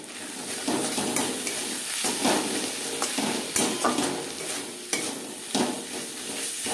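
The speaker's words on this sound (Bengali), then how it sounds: "পেঁয়াজ রসুনের সাথে লবণ, হলুদ ও মশলা বেশ ভালো করে মিক্স করে দেব।" Ground onion and garlic with salt, turmeric and green chilli paste are stirred in a sizzling pan, giving repeated scraping strokes over a continuous close frying hiss.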